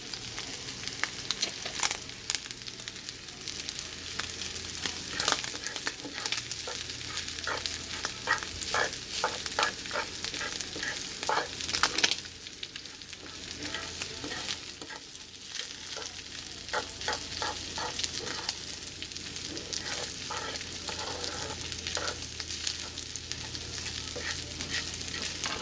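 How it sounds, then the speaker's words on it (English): Two cups of cold, day-old rice sautéed with shrimp in a hot pan for Chinese-restaurant-style fried rice. A steady, soft sizzle runs throughout beneath repeated scraping and tapping of a spatula, moderately close, with no talking. "I'm going to saute those together."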